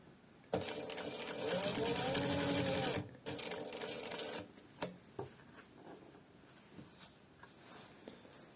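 An industrial Siruba L818F-M1A sewing machine, set up with a size 110 needle and a heavy-material feed dog, presser foot and needle plate, runs in one steady loud burst of stitching for about two and a half seconds, then stops, leaving scattered handling clicks.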